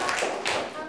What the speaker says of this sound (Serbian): Jedan aplauz za čoveka, bravo.